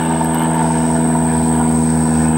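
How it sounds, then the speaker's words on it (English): A loud airplane passes overhead a few miles from an airport, heard as a constant droning roar with a steady whining hum, filling the whole stretch without talking. "that plane's loud."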